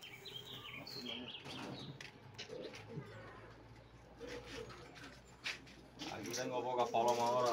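Pigeons coo softly and steadily in a pigeon loft in Punta Brava, a low murmuring layer with occasional chirps, while someone speaks Spanish over them.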